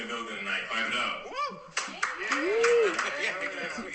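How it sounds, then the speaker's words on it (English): Comedy club audience claps at a stand-up's prompt, a few scattered claps and hand slaps mixed with laughter and voices, moderately close. "Clap it up."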